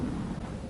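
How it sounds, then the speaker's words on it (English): Thunder rolls in a village in Ukraine as a steady, broad low rumble that holds for under a second, with no voices. "Hear some thunder."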